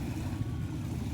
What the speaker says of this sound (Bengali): ট্রলার যাচ্ছে